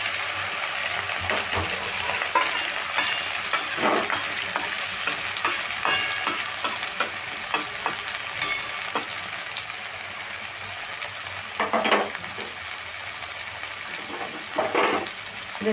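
Mourala fish paturi wrapped in gourd leaves fries in oil in a pan, giving a steady low sizzle with scattered scrapes and a few louder clatters of handling, without talk.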